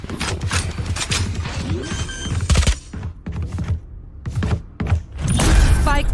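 Gunfire in the tactical shooter Valorant during a tournament match late in a 5v3 round: several sharp shot bursts and thuds, spaced irregularly and fairly loud, mixed with other game effects.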